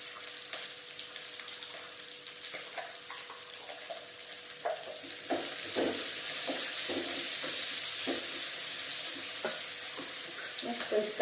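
Chopped onions frying with salt in a pan for poori curry, a steady soft sizzle with occasional stirring scrapes and light knocks, close and unaccompanied by talk.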